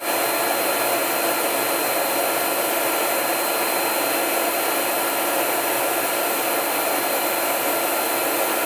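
Air nozzles of a Versa Spa tanning booth blowing during a dry pass, a steady loud broadband hiss with a faint high whine, unbroken throughout.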